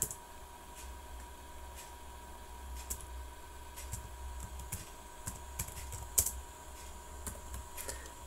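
Faint, close keystrokes on a computer keyboard as a file name is entered in Microsoft Excel 2016, irregular light clicks over a quiet background hum.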